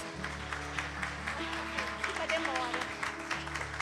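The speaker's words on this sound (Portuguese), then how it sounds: "E as palmas louvam o Senhor Jesus" Clapping from a church congregation rises in a quiet, continuous patter over sustained organ-like musical tones, with voices mixed faintly underneath.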